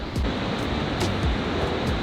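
The largest waterfall in Europe roars as a dense, continuous rush of falling water, loud and close, with some gusts of wind buffeting the microphone.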